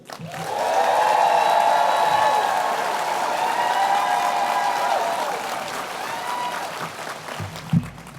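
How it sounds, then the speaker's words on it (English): An audience at a Women of Influence event cheers and applauds loudly for several seconds, a sustained wash of claps and shouts that slowly fades, with no talking over it. "Give us a big old cheer for Emily so we can send it down to her"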